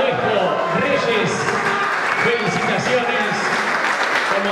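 Applause from an audience at a football league awards ceremony honoring a goalkeeper, steady dense clapping at moderate loudness with voices murmuring underneath.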